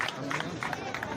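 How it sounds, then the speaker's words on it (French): An audience at a school excellence-award ceremony cheers and claps for a guest, a brief burst of crowd noise with scattered handclaps and voices mixed together. "je voudrais qu'on l'acclame très fort."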